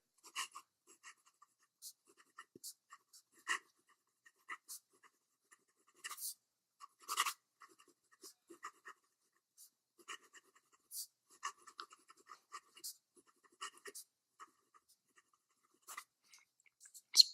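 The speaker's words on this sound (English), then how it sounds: "So let's go with some fast writing." A Jinhao 159 fountain pen moving quickly across paper, a close, faint run of light scratchy strokes and taps in irregular clusters against near silence, with no voices.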